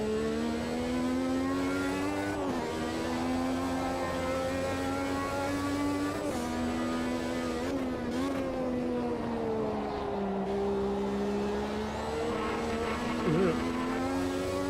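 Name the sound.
race car turbo engine sounds in Automobilista 2 video game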